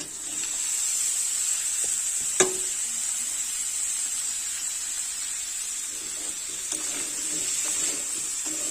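Chopped tomato, chili and potato added to onion, garlic and ginger frying in a pan, a steady close hiss and sizzle with one sharp clatter early on, no talk.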